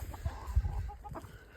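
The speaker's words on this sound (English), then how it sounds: "There's my old chickens out here." Backyard chickens on a spring homestead in Idaho cluck softly nearby, a few short low murmuring calls and bursts over quiet outdoor ambience, with no one speaking.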